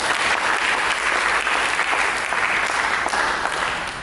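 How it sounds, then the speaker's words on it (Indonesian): A church congregation applauds steadily at a praise and worship service, dense continuous clapping filling the room for about four seconds at an even, loud level with no talk over it. "Mari kita sambut dengan tepuk tangan."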